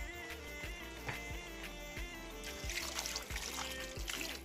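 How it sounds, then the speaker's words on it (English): Water poured into a pot of Nigerian chicken stew, a soft steady trickle with faint rhythmic stirring clicks, close and quiet with no talking. "We are going to add more water"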